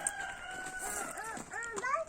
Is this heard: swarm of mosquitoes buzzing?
no